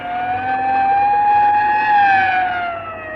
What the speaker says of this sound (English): let that ambulance get past before it runs us down